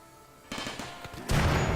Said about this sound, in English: get out of the bloody line of fire of the turrets.